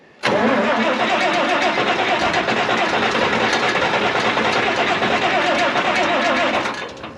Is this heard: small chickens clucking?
no